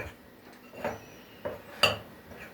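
Flour mixed with paprika and white pepper is stirred in a bowl, a few sparse, faint clinks and taps of utensil against the dish spaced about a second apart, with no voices.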